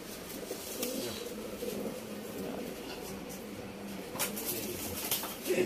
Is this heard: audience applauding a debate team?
no